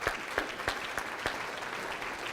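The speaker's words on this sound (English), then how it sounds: "Give David a round of applause" Audience applause at a black-tie gala, a brief moderate burst of clapping with several sharp claps standing out at a regular beat, heard from a slight distance with no voices.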